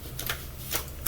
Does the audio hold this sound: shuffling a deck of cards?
yes